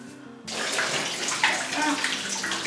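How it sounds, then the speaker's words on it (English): Running water pours steadily through hair as a protein treatment is rinsed out, a loud, continuous splashing rush that starts abruptly after a brief quiet moment and carries on without a break. "let me rinse out the protein treatment"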